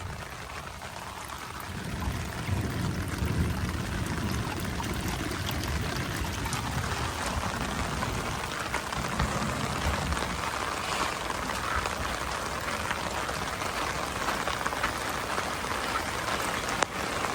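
Steady rain falls in Florida while water pours and trickles into a 6-inch corrugated storm drain mainline fed by downspouts, a continuous dense hiss with a low rushing flow that is strongest early on.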